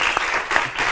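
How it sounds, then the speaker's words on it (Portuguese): A brief burst of TV studio audience applause, close and fairly loud, with a couple of sharper claps standing out from the steady patter. "Estou a puxar o aplauso"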